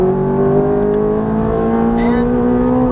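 A Ferrari F430 engine on a race track revs up under throttle in a loud, close, rising whine that climbs in pitch over a few seconds.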